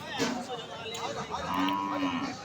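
A dairy cow lows loudly and close at Choubaria cattle market, two drawn-out moos in a row over a busy background murmur of the crowd.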